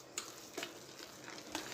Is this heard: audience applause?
no